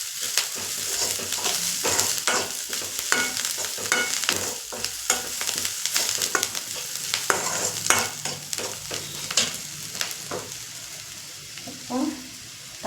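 Curry leaves crackle and sizzle in a hot pan, with a steady frying hiss broken by frequent spoon stirs and scrapes, close and fairly loud.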